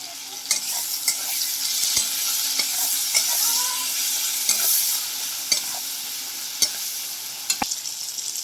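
Cumin powder stirred into sizzling oil in a pan, a steady frying hiss with sharp scrapes and taps of the spoon against the pan scattered throughout, close and fairly loud, no voices.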